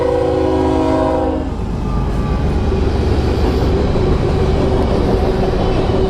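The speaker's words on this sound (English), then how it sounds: "It's a train full of hoppers." A train horn blares briefly, then a long freight train of hopper cars rolls past close by, its steady rumble and clattering wheels filling the rest.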